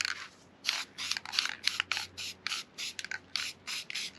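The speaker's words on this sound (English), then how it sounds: "So I'm going to go ahead and spray this thing." A rapid series of short, sharp hissing spray bursts of black stencil ink from a can onto a stencil on a hand-routed wooden sign, about a dozen in quick succession, close by with brief pauses between.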